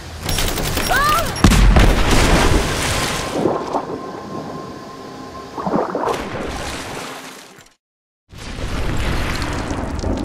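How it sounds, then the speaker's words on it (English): Grenade blast from a Rise of the Tomb Raider cutscene: a loud, booming detonation with rumbling debris and crackling, then a sudden cut to silence before a sustained low roar resumes. "Throw the grenade."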